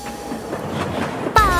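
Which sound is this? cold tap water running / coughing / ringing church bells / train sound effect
train sound effect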